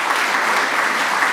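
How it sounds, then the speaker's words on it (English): An audience at the Martin Hanson Memorial Art Awards opening in regional Queensland applauds the sponsors, with dense, steady clapping that fills the room without a break. "So one more round of applause for our sponsors,"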